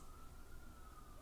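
Faint, steady siren tone from emergency vehicles outside, a distant wail sustained throughout under low background rumble.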